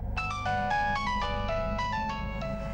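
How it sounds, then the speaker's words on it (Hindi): A bright electronic phone ringtone plays a repeating melodic pattern of quick beeping notes, fairly quiet and steady, with no voices. "टीनू का फोन।"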